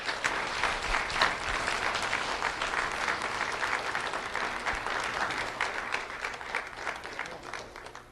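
An audience claps for a student honoree at a Lee County Sheriff's Office recognition event, a sustained, moderately distant round of many hands that holds steady for several seconds, then tapers slightly toward the end.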